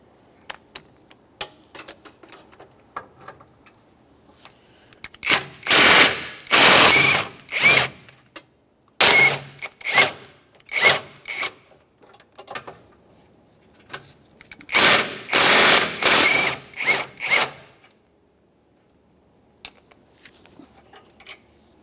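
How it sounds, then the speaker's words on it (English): A power tool backs out three 17mm bolts holding the front engine mount to the subframe of a 1994–1997 Honda Accord. Loud, close whirring bursts come in clusters with quiet gaps and faint tool clicks between them, with no talk. "Now it's time to remove that mount from the subframe. There's three 17mm headed bolts holding it in place."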